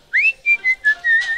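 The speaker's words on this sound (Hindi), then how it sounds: "अबे इसके सीटी बजाने का नहीं" A game character in a stick-man prison escape whistles a short tune, with clear bright notes in quick separate bursts, loud and close, and no talking.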